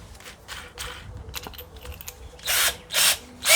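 A power drill gives a few short, quick bursts near the end, driving screws into a bedside table top after a stretch of quiet handling noises.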